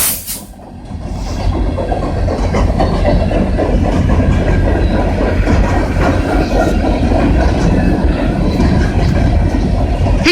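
A train rolls past at Kingston train station, a loud, steady rumble with rhythmic clickety-clack of wheels on rail joints and some hiss, continuing unbroken close by for the whole stretch.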